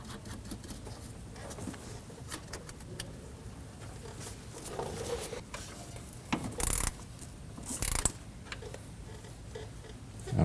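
A ratchet turns a nut onto the starter terminal stud of a 2015-2022 Chevrolet Colorado 3.6L V6, giving quiet clicking and rubbing mechanical sounds up close, with two brief louder bursts near the end.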